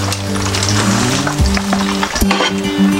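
Popeyes-style fried chicken, pieces already half-boiled beforehand, frying in hot oil with a steady loud sizzle and crackle, while a low musical drone hums underneath with no speech.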